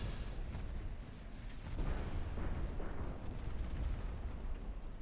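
Naval artillery fire in the game Ultimate Admiral: Dreadnoughts: a sustained rumbling roar of distant gunfire with overlapping low booms, dense and continuous rather than separate shots, moderately loud.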